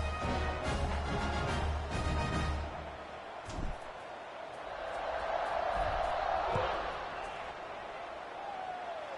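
A stadium crowd roars in a college football video game after a touchdown drive, the cheering swelling and fading in the background beneath steady commentary.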